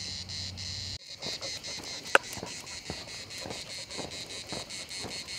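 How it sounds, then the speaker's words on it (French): Continuous, dense insect chirring, like cicadas or crickets, at a campsite, with steady pulsing and fairly loud, sustained throughout with no voices. "je sais pas si vous entendez le chant des cigales derrière moi."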